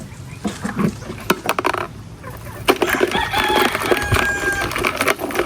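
Backyard chickens kept on a Filipino homestead cluck and call nearby, with intermittent squawks and short crowing-like cries amid scattered knocks and rustling, moderately loud and close.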